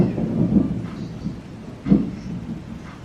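Distant thunder rumbles low in two rolling swells about a second apart, with a steady rain-like hiss beneath, no voices.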